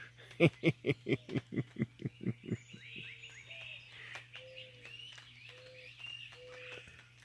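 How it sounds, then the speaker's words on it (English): A rapid series of about a dozen loud, evenly spaced woodpecker calls, followed by softer chirps from other birds over a faint steady hum. "Can you all hear that woodpecker?"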